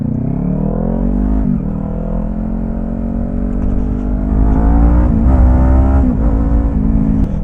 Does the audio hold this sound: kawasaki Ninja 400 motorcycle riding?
yes